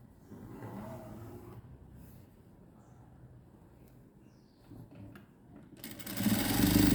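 Sewing machine stitching a churidar neck, a steady low mechanical whir that runs throughout and grows louder and busier toward the end.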